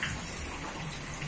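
Floodwater inside a house during a flood in Tanjung, a steady broadband wash of moving water like a gushing flow, continuous and fairly faint with no talk.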